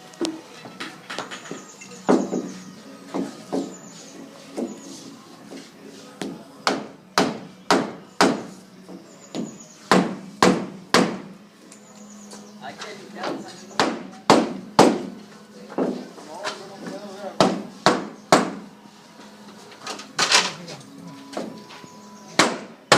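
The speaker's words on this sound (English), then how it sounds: "start hammering down, working your way down." Repeated hammer blows on a 2x4 held against the interlock of an installed sliding door, driving it loose from top to bottom; sharp, loud, irregular strikes in quick bursts over the whole stretch, fairly close.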